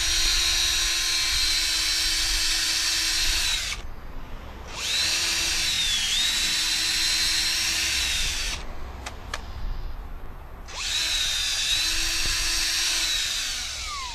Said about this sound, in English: you drill a little bit of a down angle like that, so the sap will run out